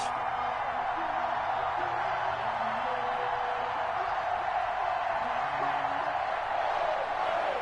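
A football stadium crowd before kickoff of a Denver Broncos versus New York Giants game at MetLife Stadium makes a dense, steady roar of massed voices and distant cheering that holds without break throughout.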